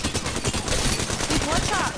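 Rapid, dense gunfire from an online battle royale video game, loud and continuous bursts of shots throughout, with voices talking over the action.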